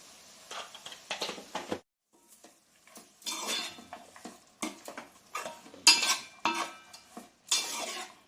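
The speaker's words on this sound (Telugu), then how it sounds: "గిన్నె లాంటి దాంట్లో వేసుకొని మూత పెట్టుకోండి" A metal lid and vessel clink and clatter as a pot is covered while cooking amaranth leaf fry, in short bursts of rattling between silent pauses, fairly close.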